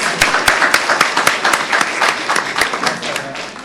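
Audience applause fills a county commissioners meeting in Montgomery County: dense, steady clapping from a room full of people, loud and close, with a few sharper claps standing out and some voices mixed in.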